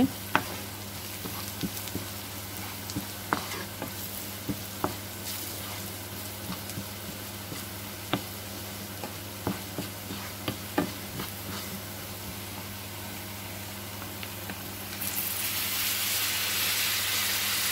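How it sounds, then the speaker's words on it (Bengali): Turmeric and coriander powder being stirred into onions in a pan for a Bangladeshi bottle gourd and fish curry, giving a steady low sizzle with sparse utensil scrapes and clicks, then a louder hiss rising near the end. "এখন মশলাটাকে ভালো করে নেড়ে চেড়ে পেঁয়াজের সাথে মিক্স করে নিচ্ছি"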